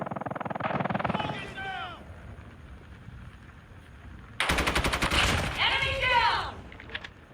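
Rapid automatic gunfire from a shooting video game sounds in two loud bursts, the first brief and the second longer, with mechanical weapon clatter between them.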